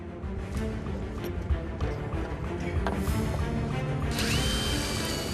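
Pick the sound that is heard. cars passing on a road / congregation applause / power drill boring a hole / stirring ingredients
power drill boring a hole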